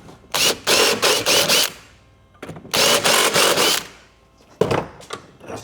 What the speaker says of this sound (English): I'm just going to get the cone cutter and it'll just kind of like neaten up the hole.